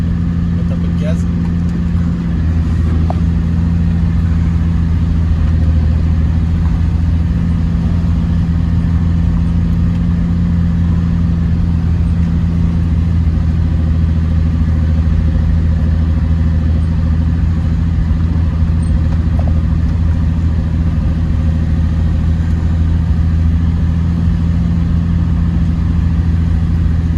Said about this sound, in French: Mettre un peu de gaz.